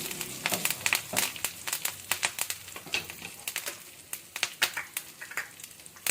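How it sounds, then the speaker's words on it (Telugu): Kasuri methi fries in hot oil in a pan with close, crisp crackles and sizzling pops in an irregular rhythm, with no talking over them. "ఈ కస్తూరి మేతి ఈ ఆయిల్లో ఇలా వేగుతూ ఉంటే"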